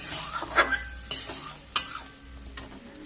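Mustard-poppy paste with coriander leaves sautéing in a pan for a fish curry, a soft sizzle broken by several distinct scrapes and knocks of a spatula stirring, with no voices.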